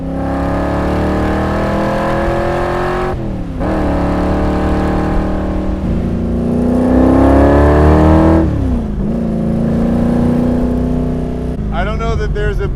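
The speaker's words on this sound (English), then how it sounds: "I don't know that there's a better sound than the sound of this 427 with side pipes." A Superformance Cobra 427 with side pipes, the Cobra R 2020 model, drives past with a loud, close V8 engine roar that rises through the gears in several accelerating pulls, with short dips at each shift.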